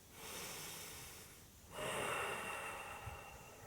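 Deep breathing during a yoga session, one long audible breath followed by a stronger, louder breath, close and fairly quiet with no talk.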